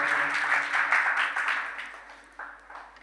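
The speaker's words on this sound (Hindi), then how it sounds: "जोरदार तालियां लगाएं मेरे यीशु के लिए।" Audience applause at a Christmas-season church gathering, a burst of group clapping that starts strong and fades away over a few seconds, with no voices over it.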